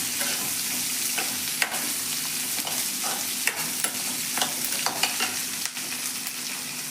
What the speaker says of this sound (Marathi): असं हे चांगलं मिक्स करून भाजून घ्यायचं आहे।